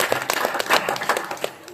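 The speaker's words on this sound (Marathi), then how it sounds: "त्यासाठी एकदा जोरदार टाळ्या" Audience clapping at a village stage play, a brief, fairly loud burst of many hands beating in quick, uneven rhythm, with voices mixed in.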